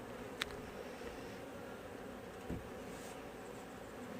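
Honeybees buzz faintly around an open hive, a low steady hum with soft background hiss and a couple of brief nearby bumps.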